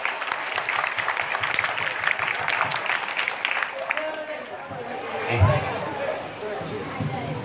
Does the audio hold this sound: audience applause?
yes